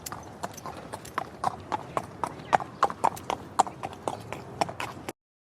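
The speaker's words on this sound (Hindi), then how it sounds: "निशा नाम की एक महिला काले घोड़े पर सवार होकर गांव की ओर आ रही थी" Hooves of a black horse carrying a woman clip-clop in a steady, brisk rhythm of sharp, close knocks on hard ground, with no other sounds, until they stop abruptly.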